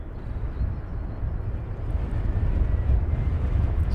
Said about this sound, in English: Pan around to the next aircraft inbound. British Airways Dreamliner.